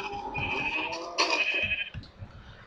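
Sheep in the Minecraft video game bleating: two or three drawn-out, wavering bleats, close and clear, with no speech.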